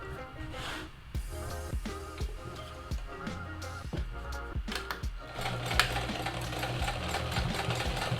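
A sewing machine runs in close, rhythmic bursts as it stitches outdoor fabric for homemade patio furniture, with short pauses between the runs and a faster stretch near the end.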